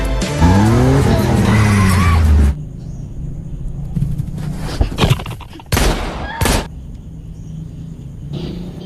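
A car in a desert revs hard with a rising, whining engine and squealing tires for the first few seconds, then cuts out, followed by a few loud, abrupt crashing bursts.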